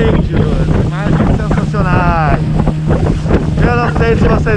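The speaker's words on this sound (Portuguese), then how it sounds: "eu não sei se vocês estão me ouvindo com esse motor." A boat motor runs loud and close through the whole stretch while someone talks over it in Portuguese; gusts of wind buffet the microphone.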